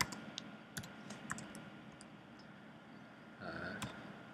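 Keys on a Mac computer keyboard tapped as a terminal command is typed, a few scattered soft clicks over a quiet room hum, with a brief denser flurry near the end.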